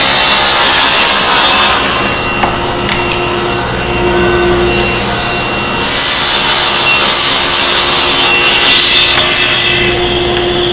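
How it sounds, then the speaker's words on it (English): A saw cuts through plywood guided along a fence on a router jig setup, a loud, close, steady rasping whir with slight variations in bite that lasts about eleven seconds without talking. "We're going to make sure that the plywood goes all the way past the blade first. Staying nice and steady along the fence."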